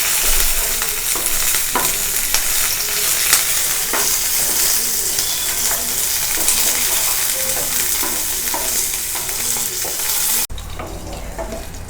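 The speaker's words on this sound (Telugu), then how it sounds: "పచ్చిమిరపకాయలు వేగేంత వరకు బాగా ఫ్రై చేసుకోవాలి." Green chilies and coriander seeds fry in a pan for a curd chutney, giving a steady, dense sizzle with scattered crackles and stirring scrapes throughout, close and loud, with no talking.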